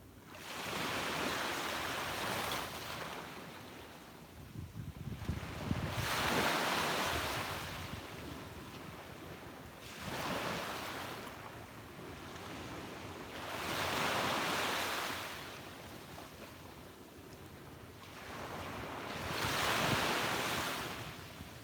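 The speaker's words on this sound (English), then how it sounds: "the sounds of the waves" Ocean waves rolling onto a beach in slow, regular surges, each rush of surf swelling and fading, with wind noise throughout and no talking.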